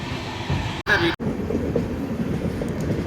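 A passenger train rolls along the rails on a curve, a steady close rumble with faint wheel clatter, broken by two brief dropouts; no talk is heard.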